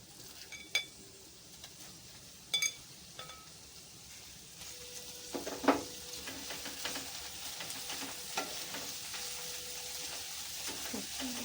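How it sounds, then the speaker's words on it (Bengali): Shredded cabbage frying in about three spoons of hot oil for cabbage kofta curry, a steady quiet sizzle with occasional sharp clinks and scrapes of a spatula against the pan, no voices. "এবার বাঁধাকপিটা ভেজে নেব।"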